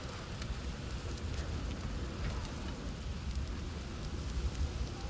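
A desert storm in God of War Ragnarök in the Barrens of Alfheim: a steady, dense roar of wind-driven sand and gusts, like heavy rain hiss, continuous and fairly close, with no voices.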